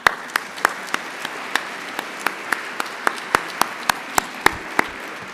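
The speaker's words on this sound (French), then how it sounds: "Alors, on s'applaudit." Sparse applause at a faculty assembly, with a few people clapping in loose, distinct claps at a slow, irregular pace, fairly close and with no talking over it.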